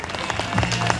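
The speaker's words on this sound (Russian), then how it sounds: "аплодисменты!" Applause breaks out from an outdoor summer park audience at a children's magic show, a dense burst of clapping lasting about a second with faint crowd noise mixed in.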